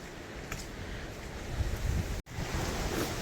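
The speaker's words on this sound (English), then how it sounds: "it might be too darn windy to have a pleasant break out here" Wind gusts buffet the microphone on an exposed hilltop walkway near the summit, giving a fairly faint, continuous rushing roar that swells and dips.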